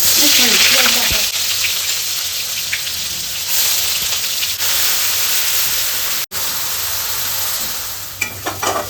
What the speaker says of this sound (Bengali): তেলটা গরম হয়ে গেছে, পেঁয়াজ ভাজাটা দিয়ে দিচ্ছি।